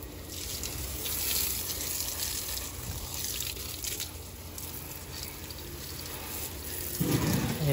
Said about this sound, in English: I'm gonna water them real quick and water all the plants